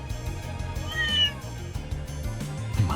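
A cat meows repeatedly in the Trails in the Sky video game, clear and fairly loud with rising and falling cries over a steady background game music loop, no talk.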